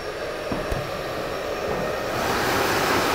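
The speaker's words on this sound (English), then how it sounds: "the blow dryer is going to help to expand the cuticle of the hair" A blow dryer runs steadily while drying and styling a man's thinning hair, a close, constant airy whoosh that grows louder and brighter near the end.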